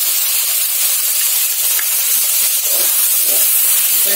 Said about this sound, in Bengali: এবার এইভাবে শাকটাকে নাড়বো